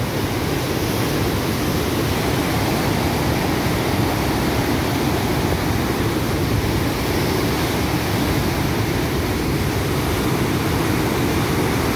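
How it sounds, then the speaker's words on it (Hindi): Fast-flowing water roars in a loud, dense, continuous rush without pause, filling the whole scene with no voices on top. "बहुत तेज पानी है"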